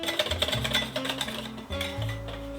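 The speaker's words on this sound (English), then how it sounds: "And then we mix until smooth" A whisk clinks quickly in a bowl, beating milk, butter and sweetened condensed milk into a smooth snowskin mooncake batter, with fast rhythmic taps and a low hum under them.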